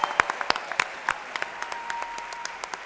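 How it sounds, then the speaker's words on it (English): Audience at a Bioneers conference gathering claps for musicians, a modest scattered applause with distinct individual hand claps standing out and a faint sustained tone underneath, tapering off. "one more round of applause for Afia Walking Tree and Deb Lane"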